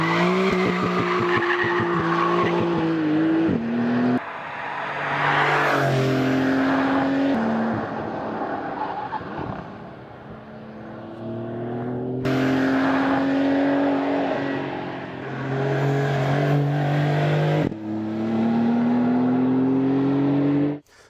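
A 2019 Porsche 911 on a racetrack revs hard through rising engine pitches and gear changes, with tyre squeal, a quieter lull mid-run as it eases off, then loud acceleration again close by.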